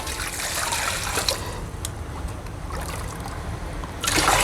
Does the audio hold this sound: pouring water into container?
yes